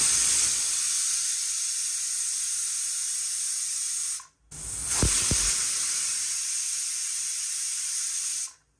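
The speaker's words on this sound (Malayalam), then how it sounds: "തിള വന്ന് തുടങ്ങുമ്പോഴേക്കും കുക്കർ അടച്ച് ഒരു 2 വിസിൽ." A pressure cooker with chicken biryani inside hisses loudly as it vents steam, a long continuous jet broken by one brief pause, with a couple of sharp knocks partway through.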